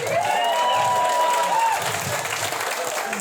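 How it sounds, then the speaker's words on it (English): A comedy club audience at a stand-up show breaks into sustained applause, dense clapping with some cheering and a whoop, loud and filling the room throughout. "Yeah, you can clap"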